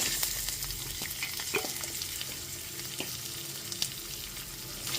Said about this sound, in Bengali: এবার ওই একই তেলের মধ্যে ফোড়নে দিয়ে দেব 2 টেবিল চামচ নারকেল কুচি, 1 টিস্পুন গোটা জিরে, 2টো শুকনো লঙ্কা, 2টো তেজপাতা